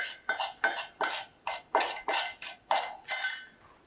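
Melted butter, garlic powder, Parmesan cheese and seasoned salt being mixed in a bowl for garlic Parmesan chicken wings: about nine rhythmic scraping strokes, close and fairly loud, with no talk.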